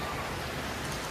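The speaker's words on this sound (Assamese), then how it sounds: "যি ৰেইনি বতৰ" Steady rain falls in rainy weather, a continuous soft hiss with no breaks over a short moment.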